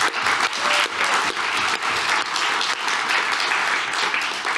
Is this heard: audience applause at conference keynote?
yes